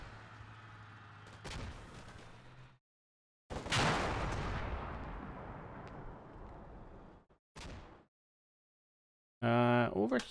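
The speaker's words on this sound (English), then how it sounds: "That's just a machine gun fire from the tank as well." Tank machine gun fire in the video game Combat Mission: Black Sea, with bursts of gunfire set apart by silent gaps and a sustained noisy stretch in the middle.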